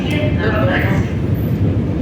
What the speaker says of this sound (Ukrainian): їдемо ще з метро